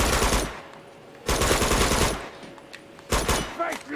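Bursts of automatic gunfire in the video game Uncharted 2 during a cover shootout, three loud rapid-fire volleys separated by quieter pauses, close and punchy.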